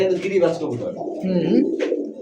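Pakistani bloodline high-flyer pigeons cooing close by in a steady, overlapping murmur of low throaty coos, with a few brief higher chirps near the end; no one speaks.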